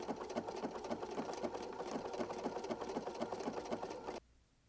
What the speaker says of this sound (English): You're not trying to force your fabric through the machine.